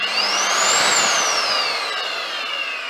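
A loud Electrolux Ultra One vacuum cleaner motor whines up quickly, its pitch rising then gradually falling as it keeps roaring close by.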